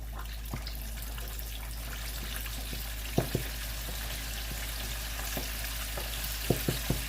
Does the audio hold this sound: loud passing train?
no